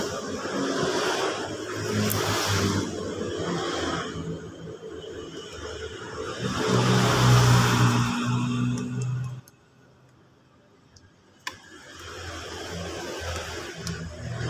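A Honda Beat FI scooter that runs jerkily is started and left running: a steady engine drone swells louder midway, drops off abruptly, then returns more faintly with light ticking.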